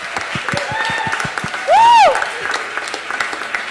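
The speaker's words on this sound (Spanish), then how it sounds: "¡Un aplauso!" Applause from a circus festival audience at Sala Nasa, a steady patter of many hands with clear individual claps, briefly topped by a loud whistle-like tone in the middle.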